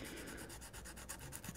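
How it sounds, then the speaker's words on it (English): Guitar frets being sanded by hand with 240 grit sandpaper, a soft, steady rubbing and rasping with faint repeated strokes, quiet and close with no talking. "I can sand the top, but with the 240, don't sand it too much"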